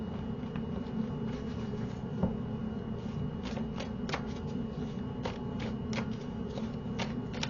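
Tarot cards being shuffled and drawn from the deck, a quick run of soft papery riffles and light flicks at close range over a faint steady background hum, with no talking.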